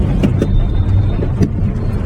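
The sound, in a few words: car driving off in second gear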